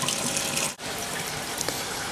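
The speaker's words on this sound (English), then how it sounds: "the water from the towers are being returned into this second tank" Water from aquaponics towers pours back into a tank with a steady, close splashing rush that stays even apart from one brief dip.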